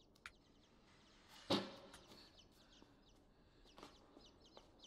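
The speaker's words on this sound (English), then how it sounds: "The chickens are back!" Chickens cluck in a horror-puzzle video game featuring zombie-like humans, with one sharp louder squawk near the middle and a few fainter clucks scattered around it over a low background.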